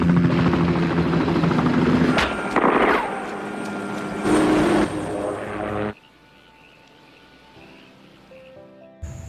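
A helicopter arrives for a rescue mission, its loud thudding rotor wash and engine whine dominating for about six seconds before cutting to a quieter, faint background hum with a brief burst at the end.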